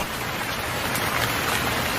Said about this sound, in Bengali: হঠাৎই বৃষ্টি নেমে আসলো।